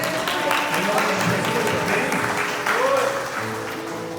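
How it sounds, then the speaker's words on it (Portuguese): Church congregation claps together in sustained applause, with a voice speaking over the clapping throughout. "Vamos dar uma salva de palmas para o Senhor"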